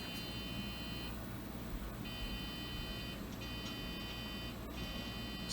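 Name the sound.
old desktop computer beeping on power-up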